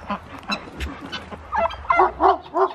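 Ducks and Wyandotte chickens, white and gold, honk and cluck in a backyard flock, a run of close, loud nasal calls that grow busier toward the end.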